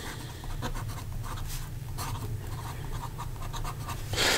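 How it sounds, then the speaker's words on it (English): A Sailor King of Pen Pro Gear fountain pen with a medium 21 karat gold nib scratches steadily across paper, close and quiet, with a brief louder scrape at the end. "go with the writing sample for the Sailor King of Pen."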